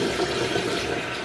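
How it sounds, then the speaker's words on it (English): Steady running and splashing water, continuous and fairly loud, like a tap flowing while someone rinses their face. "And then you wet your face, cold water only."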